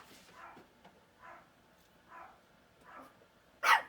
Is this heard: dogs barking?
yes